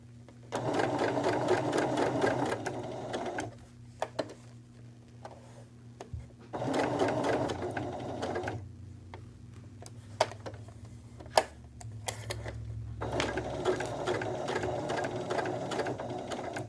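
A sewing machine stitches around curves in short runs, its rapid motor whir stopping and restarting as the fabric is pivoted, with faint clicks and handling noises in the pauses.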